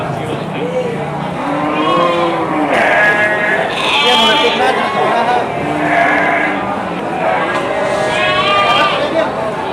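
Garut sheep bleat repeatedly at a livestock market, several loud, wavering calls overlapping one another, with people talking throughout amid busy crowd noise.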